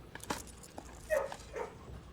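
A dog in the video game Blue Prince gives a few faint, short barks and yips, spaced apart against quiet background ambience.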